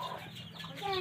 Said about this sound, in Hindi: वो देख मुर्गी, आगे देख मुर्गी